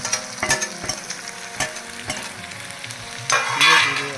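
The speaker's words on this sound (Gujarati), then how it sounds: "ટામેટા ઉમેરવાનું છે અને બધા જ મસાલા છે એને મિક્સ કરવાના છે" Tomato and a mix of spices, including green masala, stirred in hot oil, with a steady sizzle and repeated scraping stir strokes, loud and close, swelling into a stronger fry near the end.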